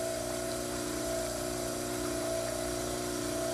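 A model trimmer grinding a dental plaster cast, giving a steady, loud motorized whir with a constant tonal hum and gritty abrasive hiss throughout, no voices.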